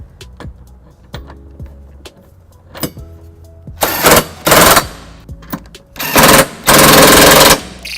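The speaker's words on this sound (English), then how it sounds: "Now that I gotten the bolts tightened down with the cordless socket" Cordless socket wrench driving a 19 mm bolt on a trailer hitch being fitted to a 2017 Toyota Highlander: light clicks and taps, then several loud buzzing bursts of the tool running and stopping, up close.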